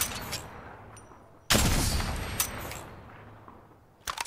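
Gunfire in the Apex Legends video game: a loud sudden burst of shots that cuts in and sustains for over a second, then a quieter stretch and a second sharp volley near the end, with faint in-game sounds between.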